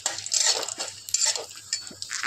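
A spatula stirs nuts frying lightly in oil in a wok, giving soft scraping and clinking against the metal with faint sizzling. The sound is brief, close and fairly quiet.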